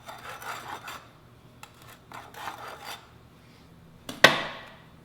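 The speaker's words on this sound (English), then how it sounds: "we need to strike off The excess off the top, we're going to do this with a rolling and screeding motion" Excess grout being struck off the top of a slump cone with a rolling, screeding motion, heard as several rasping scrapes in short bursts, followed by a sharp knock with a fading ring near the end.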